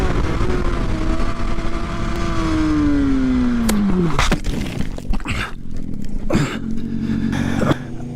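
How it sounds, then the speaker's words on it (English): A racing motorcycle at a track screams at high revs with a falling engine pitch, then loses control on a curve and runs off the track, followed by scattered crunching and thudding impacts against steady loud noise. "A motorcyclist was racing with his teammates, but unfortunately, he lost control of his bike at a curve and went off the track"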